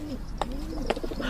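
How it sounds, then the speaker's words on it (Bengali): Pigeons cooing from the ceiling beams of a verandah, a short, soft coo with a couple of brief call notes nearby over a low background. "মাথার উপর কড়িবর্গা থেকে পায়রার ডাক শোনা যাচ্ছে।"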